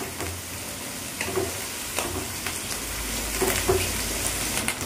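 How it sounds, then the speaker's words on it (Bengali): Ginger and garlic paste sizzles steadily while frying in a pan, a continuous close hiss with a few soft stirring scrapes and no talking. "1 চামচ রসুন বাটা দিয়ে আমি একটু ভালো করে কষিয়ে নেব"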